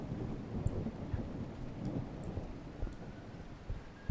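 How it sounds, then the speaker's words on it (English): Faint thunder rumbles as background ambience in the video game Backrooms: Escape Together. Soft, distant rolls of thunder sit within a quiet rain-like hiss, and no one speaks. "there is thunder if you listen closely"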